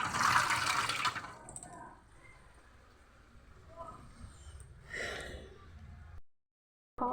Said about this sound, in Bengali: হাতটাকে প্রথমে ধুয়ে নিই।